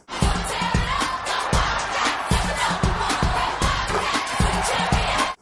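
Cheerleaders and a packed crowd in a High School Musical 3 sports scene shout and cheer loudly over sharp, regular stomps or claps that beat in a strong repeating rhythm throughout.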